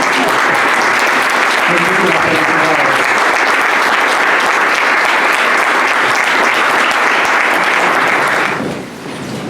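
Loud, sustained audience applause fills a tribute event honoring a doctor, a dense steady wash of many hands clapping that runs for about nine seconds before abruptly dropping away near the end.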